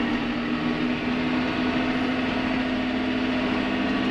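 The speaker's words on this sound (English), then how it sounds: "Give it a little throttle and away we go." Tractor engine running steadily with the sprayer switched on during spring planting, a constant droning hum with a strong low tone, moderately loud and unchanging.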